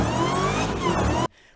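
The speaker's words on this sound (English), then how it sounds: "I doubt there's anything electric, I don't care how fast it is, that can make the sound that that blower makes on that Demon." Supercharged Dodge Demon engine revving loud and close with a steady high-pitched blower whine over a deep roar, holding for over a second before cutting off abruptly to near silence.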